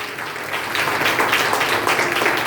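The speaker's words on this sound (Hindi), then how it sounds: "सबसे पहले मैं चाहता हूं कि आप अपने आप के लिए जोरदार ताली बजाओ एक बार।" Sustained clapping from a church congregation at a Sunday service in response to a call for loud applause, a dense, even wash of many hands that swells slightly and holds steady throughout.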